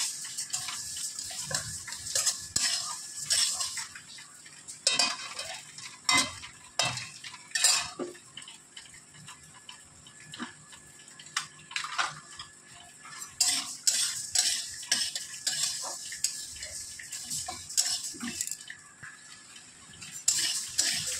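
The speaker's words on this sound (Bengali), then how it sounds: "লাল লাল করে ভাজবো ডালটা আমি এখন।" Dal frying in a pan until reddish, with a spoon scraping and clinking against the pan in repeated irregular strokes over a low, steady background.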